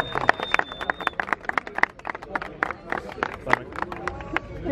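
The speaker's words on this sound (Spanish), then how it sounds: "Oigan, un aplauso para estos dos cabrones." A crowd at a freestyle rap battle final in Saltillo claps in sharp, uneven bursts, close and fairly loud, with shouts and voices mixed among the claps.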